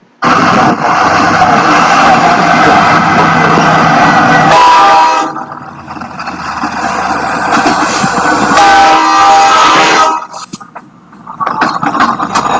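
E40 diesel train passing with its horn: loud, close rolling roar fills the first seconds with sustained horn blasts, then drops, the horn sounds again mid-clip, and the noise fades toward the end.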